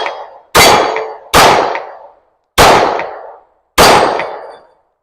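Smith & Wesson SD40 pistol firing four loud, sharp shots in an uneven sequence outdoors, each one cracking and then ringing out into a decaying tail, with no voices.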